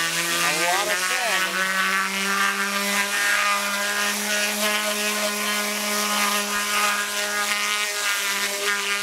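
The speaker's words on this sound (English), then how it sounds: "So now as we're getting more and more of this part sanded" Power sanding on a part of a classic Honda roadracer under restoration: a steady, loud motor whine with a constant hiss of abrasion running throughout, without pause.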